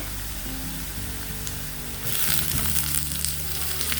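Finely chopped onions sauté in a pan for a Tamil brinjal fry, a low steady hiss that swells into louder crackling sizzle halfway through as they are stirred, close and alone with no voices.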